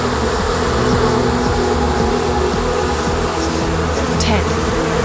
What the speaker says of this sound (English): the insects are literally fighting each other at the back of Dr. Gary's throat